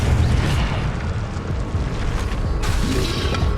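Incendio fire spell blast cast in the Hogwarts Legacy video game, a loud, sustained roaring burst with a rumbling low end and a fresh whooshing flare near the end.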